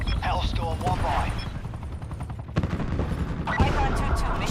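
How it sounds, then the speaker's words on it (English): Attack helicopter gunfire in the video game Black Ops 4: loud, rapid machine-gun bursts mixed with rotor noise, continuous throughout with a brief dip before firing resumes. "Attack chopper standing by. Bird's taking a beating."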